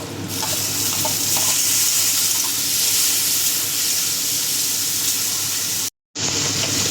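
Onion and tomato fry in a pan with a loud, steady hiss of sizzling oil that runs almost unbroken, cut by one brief silent gap near the end.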